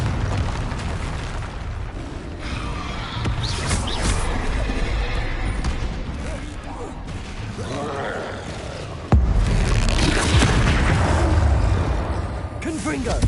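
Confringo blasting spell in Hogwarts Legacy, with booming fiery explosions in a troll fight, one sharp loud burst partway through and dense rumbling combat noise throughout.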